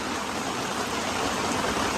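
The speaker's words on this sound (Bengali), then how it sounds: "প্রচণ্ড বৃষ্টি হচ্ছে" Heavy rain pours steadily over a rooftop garden, a dense, even roar of falling water with no voices.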